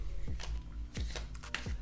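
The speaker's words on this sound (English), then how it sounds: "holding these cards we prepared and shuffle the cards" Playing cards being shuffled by hand during a magic trick, heard as three or four quick riffling bursts spaced evenly apart, close and fairly quiet, with no voices.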